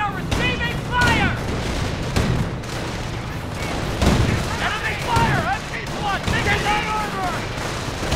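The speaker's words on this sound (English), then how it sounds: "And there's the artillery." Artillery barrage in Company of Heroes, a run of booming impacts and gunfire bursts over 8 seconds, fairly loud and dense, with whistling shell sounds mixed among steady battlefield noise.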